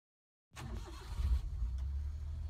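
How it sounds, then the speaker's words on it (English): A Suzuki Carry truck in Roblox Driving Empire starts up after a brief silence and settles into a low, steady engine drone that stays close and even. "Let's drive our Suzuki Carry truck."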